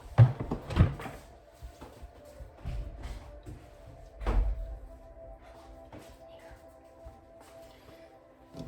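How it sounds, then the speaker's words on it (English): A door is shut indoors with a few dull thunks and knocks, the heaviest thud near the middle, amid quiet room noise. "I'm gonna have to shut this door real quick."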